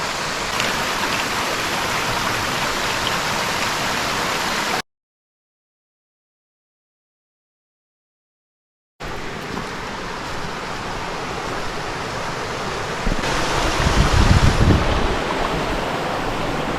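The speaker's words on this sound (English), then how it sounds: "A tributary of the same creek." A mountain creek tributary in Great Smoky Mountains National Park rushes in a broad, steady roar of flowing water close by, briefly cutting out to silence before resuming slightly rougher, with no talk.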